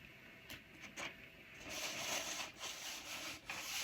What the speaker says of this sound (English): And then you just rub that on.